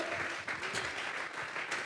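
Congregation clapping in a church, a dense burst of applause filling the short moment at steady loudness, with a faint voice underneath.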